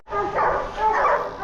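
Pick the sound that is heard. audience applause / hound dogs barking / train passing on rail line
hound dogs barking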